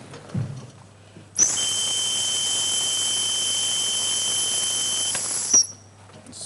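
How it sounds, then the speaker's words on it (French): An electronic breathalyzer gives a single sustained high-pitched beep lasting about four seconds, starting and stopping abruptly, loud and close in a quiet room. "Jusqu'au retentissement d'un bip sonore."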